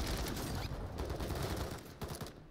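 Repeated gunshots from the shooter game Call of Duty: Modern Warfare III ring out in a fast, loud volley that thins out near the end, heard alone with no voices.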